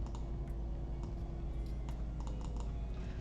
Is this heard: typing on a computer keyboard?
yes